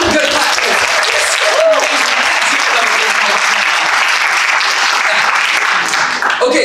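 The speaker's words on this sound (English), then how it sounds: "You give him a good clap." An audience at a Care Week gathering gives a loud, sustained round of applause, dense clapping from many hands that holds steady throughout and fades slightly at the very end.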